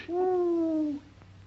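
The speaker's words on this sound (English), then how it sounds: "Hey, that sound like an owl to you?" A single long, wavering hoot like an owl's call sounds close and clear for about a second against a quiet background.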